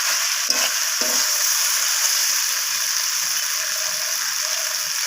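Knol-khol, radish, beans, eggplant and potato are sautéed with a fish head in oil. A continuous loud hiss of frying runs throughout, with a few soft scrapes of a spoon and no talking.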